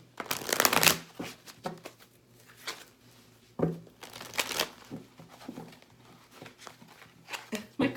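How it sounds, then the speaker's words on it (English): Deck of tarot cards being shuffled by hand during a reading, several quick riffling bursts with pauses and soft handling clicks in between, close and crisp. "My cards don't want to shuffle."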